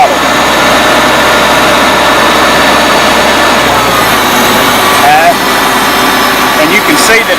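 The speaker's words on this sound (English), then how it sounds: "The throttle is very responsive. The governor is in very good shape. That's full throttle." A 1975 International Farmall Cub tractor engine runs at full throttle, a loud, steady drone filling the whole stretch with a slight pitch shift midway, while someone talks over it.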